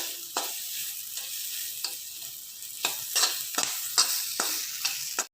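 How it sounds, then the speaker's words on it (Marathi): Green chilies sizzling with salt in a pan, a steady fry hiss broken by about a dozen sharp scraping stirs of a spatula, close and moderately quiet with no talking. "या मिरच्यामध्ये अर्धा चमचा सेंद्रिय मीठ घालले आणि 1 मिनिट परतून घेऊया."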